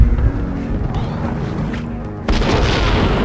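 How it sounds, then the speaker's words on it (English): A grenade explosion in the Max Payne video game: a loud, deep boom at the start, a rumbling stretch, then a second sharp blast that rings out, heavy and close. "Let's see if I can be pro with a grenade!"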